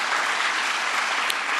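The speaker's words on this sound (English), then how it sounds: "Let's give a great round of applause for our County Executive, Steve Ballone." Audience applause at a New York state government press event, a dense, even wash of clapping sustained throughout at moderate level.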